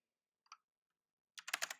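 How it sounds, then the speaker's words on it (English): Keystrokes on a computer keyboard while writing code: a single soft click, then a short burst of rapid, close typing near the end. "So I'm just going to type in"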